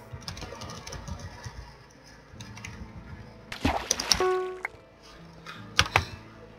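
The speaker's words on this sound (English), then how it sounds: "Nice, I beat James in the typing game" Rapid, uneven clacking of computer keyboard keys during an online typing game, coming in bursts with a few louder strikes, fairly quiet and close.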